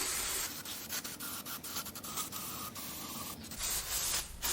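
Water sprays over parts of a Mercedes OM642 3.0L turbodiesel V6 engine block during a rinse, a continuous hissing spray broken by brief scraping and rubbing strokes, fairly close and quiet.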